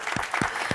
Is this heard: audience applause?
yes